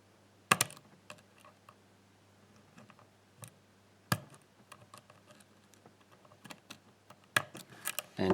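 A tubular lock picked with a Sparrows tubular tensioner: sparse, sharp metallic clicks and small ticks at irregular intervals, close and fairly quiet against a faint steady hum.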